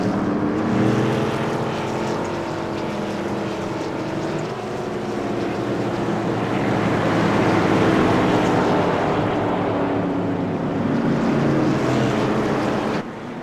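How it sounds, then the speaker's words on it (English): Modified race cars roar together on a short track at Southern National Motorsports Park while rolling under the pace car, a dense, continuous engine drone that swells and fades slightly as the field passes, loud with no talk. "hear the lovely roar of these engines once they start to take off"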